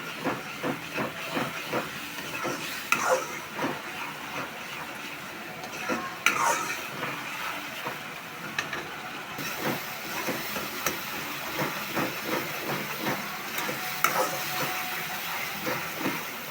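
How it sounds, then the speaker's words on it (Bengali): Spices and puti fish being sautéed and stirred in a pan for a dish with potato and eggplant, giving a steady hiss and sizzle broken by repeated scraping stirs throughout. "এখন আমি এটারে ভালো করে কষায় নেব।"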